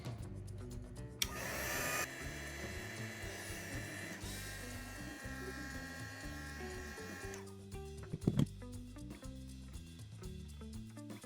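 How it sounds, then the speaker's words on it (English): A heat gun on its low setting smoothing the wax tops of candles in silicone molds, giving a steady blowing hum and hiss that runs throughout with a few small clicks and knocks, no talking. "Now for a smooth top, I'm gonna use my heat gun, and on the low setting"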